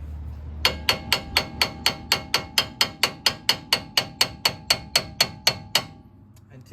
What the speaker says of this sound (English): we're gonna smash it with a hammer